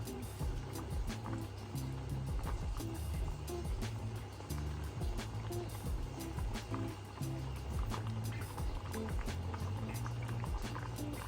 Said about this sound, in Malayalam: തിള തുടങ്ങിയിട്ടുണ്ട്